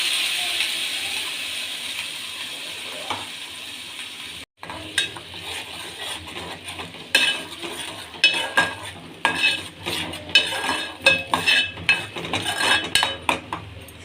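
Chutney hits hot oil with mustard seeds in a pan: a steady sizzling hiss at first, then a sharp break and a busy run of close scraping, clinking spoon strokes against the pan over a softer sizzle.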